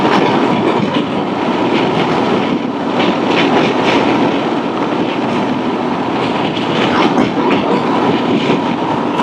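Wind buffeting a rider on a 2024 Honda Transalp 750 motorcycle with a windscreen and winglets at high speed, around 80, heard as a loud, steady, broadband roar with rumbling fluctuations that fill the whole stretch.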